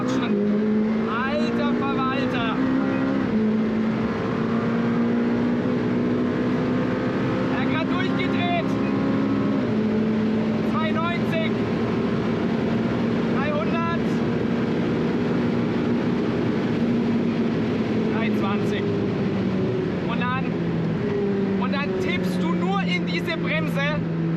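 A McLaren Senna, an 800 hp supercar, accelerates hard at full throttle, its engine note climbing steadily and loudly through the gears with brief dips at the shifts, while people talk in the cabin over it.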